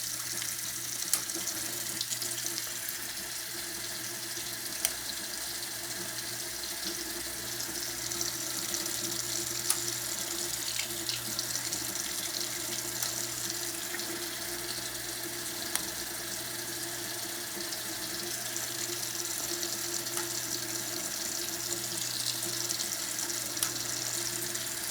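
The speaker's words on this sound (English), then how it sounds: "run it under the water, then I put it back in the container, let it fill" Tap water runs steadily from a faucet into a sink while fountain pens are rinsed of ink, a continuous close splashing hiss with a few faint clicks and no talking.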